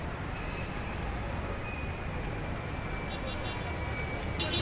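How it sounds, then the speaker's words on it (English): Steady background traffic ambience with cars passing, a dense and even road rumble with a faint high whine, and no voices. "I picked another background that could bring out the cars"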